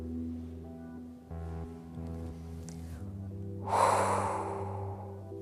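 A deep breath drawn in during a sophrology exercise, a long rushing inhalation that swells late and sounds close over a soft background tone.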